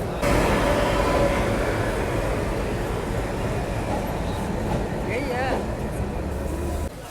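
A train is being shunted to platform 9 at an Indian railway station, giving a steady loud rumble of rolling wagons with station noise. Talk runs over it.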